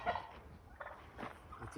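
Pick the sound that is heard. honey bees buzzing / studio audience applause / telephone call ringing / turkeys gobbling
turkeys gobbling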